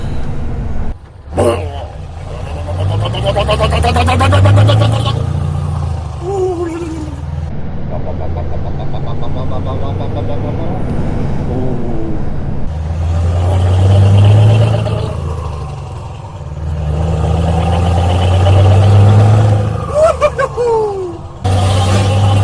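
A Scania V8 truck engine cranks and catches, then idles and revs with a deep, throaty rumble that rises and falls in surges, with people talking over it inside the cab.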